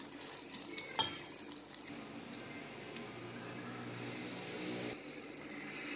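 Melting sugar stirred in a pan for caramel, with soft scraping and gentle clinks of a utensil against the pan, one sharper knock early on, all quiet and close over a faint background hiss.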